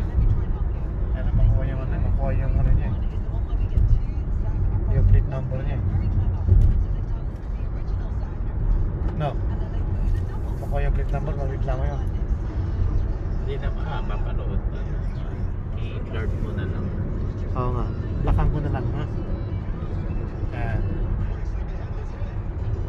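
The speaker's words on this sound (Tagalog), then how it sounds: "Traffic ngayon, bro." Road traffic rolls along the UAE Road toward Sharjah, a constant low rumble of vehicles with intermittent higher tones from passing cars, while people talk over it.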